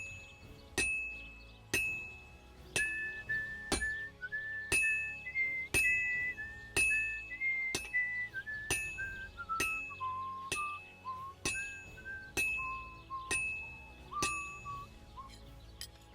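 A blade is forged at a smithy in Kingdom Come Deliverance 2: regular ringing hammer clinks on metal, with a whistled tune that rises and falls over the strikes.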